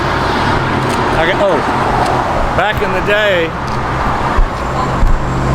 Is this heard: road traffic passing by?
yes